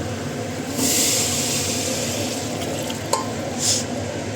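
Hot water poured into a pan of rice frying with spices, giving a steady broad sizzling hiss with brief brighter surges, close and moderately loud, no talking.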